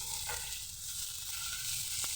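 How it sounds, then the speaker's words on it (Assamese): Onion, ginger, garlic and green chillies sizzle in a hot pan, a close, steady frying hiss running without pause and with no voices. "এইখিনি অলপ সময় ভাজি ল'ম"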